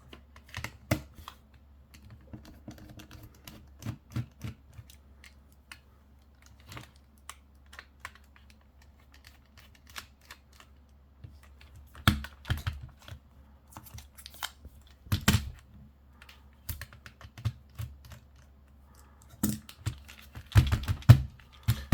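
Small tri-wing screws being worked out of a Nintendo DS Lite's back cover: sparse, faint clicks and ticks of the screwdriver bit and plastic handling sound close by, in irregular bursts over quiet.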